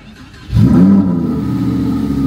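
A Lamborghini Huracán Evo fires up close by with a sudden loud bark, its revs swelling briefly and then settling into a steady, deep idle rumble.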